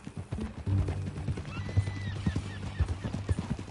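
Horse hooves clip-clop steadily in Red Dead Redemption 2 while a horse whinnies, close and fairly loud, with low rumbling game sound underneath.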